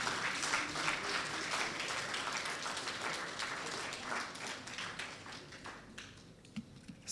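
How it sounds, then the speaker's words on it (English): A lecture audience claps in sustained applause that stays fairly even and then tapers off, with a few scattered claps at the end. "I think Bernard Avle deserves another round of applause."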